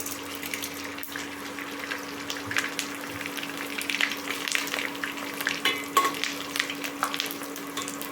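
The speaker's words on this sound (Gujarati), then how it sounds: "ઘી ગરમ થઈ ગયું છે એમાં આપણે ગુંદર એડ કરવાનો છે" Edible gum (gond) fries in hot ghee with a steady close crackle and sizzle, small pops growing busier as it puffs, over a faint steady hum.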